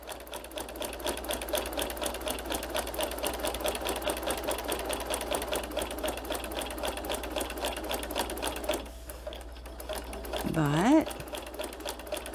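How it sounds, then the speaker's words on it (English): Sewing machine stitching a quarter-inch line on a quilt-as-you-go cover, a rapid steady mechanical whir with even needle ticks for most of the clip, pausing briefly near the end while someone speaks softly. "I'm just going to go ahead and try to sew a quarter inch straightish line."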